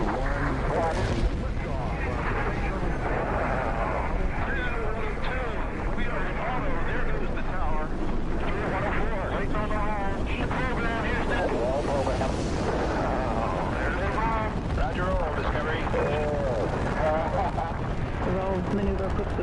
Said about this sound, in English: We are go for main engine start.